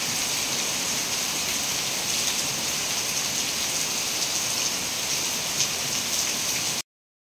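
Heavy monsoon rain in Udupi pouring down steadily, a loud dense hiss of drops on surfaces that holds constant without pause and then cuts off.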